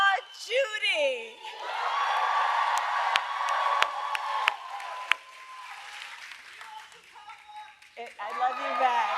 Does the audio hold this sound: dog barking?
no